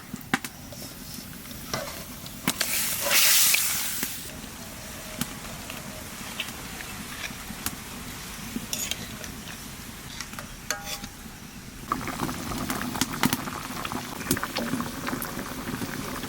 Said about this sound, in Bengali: সর্ষেটা একটু জাল দিয়ে নিচ্ছি, এইবার মাছ দিয়ে দেবো।